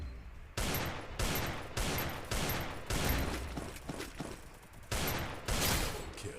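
Rapid bursts of gunfire from the Free Fire battle royale game, loud close repeated volleys with short gaps between them, heard alone with no talking.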